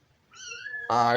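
A cat yowls indoors, a loud drawn-out meow that swells into a harsh, strained scream near the end, heard alone and close by.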